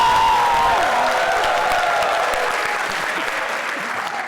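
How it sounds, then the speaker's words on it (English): Loud, steady applause from a crowd at a company office, sustained clapping that slowly fades a little toward the end, with no talk over it. "somebody will start the slow clap."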